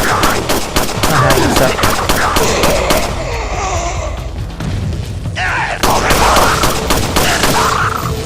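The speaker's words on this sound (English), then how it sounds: "This gun all fires. Rapid fire!" A big gun in Resident Evil 4 fires rapidly in a loud, dense burst of close shots, then pauses and resumes, with a voice talking over the gameplay.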